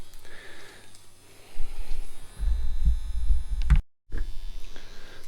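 Electric buzzing of a Favvosee Nebulla 2 tattoo machine fitted with a magnum needle, a steady low hum that swells louder midway, cuts out briefly, then resumes.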